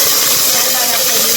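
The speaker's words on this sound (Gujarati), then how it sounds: "મરચાં બરાબર તકડી ગયા છે" Dry chillies, cloves and mustard seeds fry in hot oil for Gujarati tuver dal, giving a loud, steady, close sizzle and hiss with no pauses.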